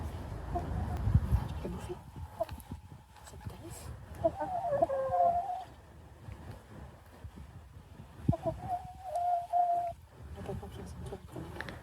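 Hens cluck intermittently in short bursts over quiet background, with people talking faintly at times.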